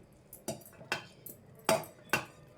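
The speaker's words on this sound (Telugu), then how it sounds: "పెట్టేసుకొని ఇప్పుడు పెద్ద మిక్సీ జార్ తీసేసుకుందాం" A mixer grinder jar is handled in a kitchen, giving five sharp, separate clinks and knocks of metal and hard plastic spaced about half a second apart, close and clear with no talk.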